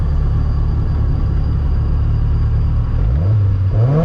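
A repaired car engine idles near the microphone with a steady, even hum and no misfire. Toward the end the pitch rises and falls briefly as it revs.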